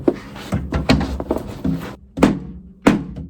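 A mallet strikes an old wooden desk while trying to detach the top after heating it, producing a series of loud, hollow wooden thunks at irregular intervals, close and with no voices.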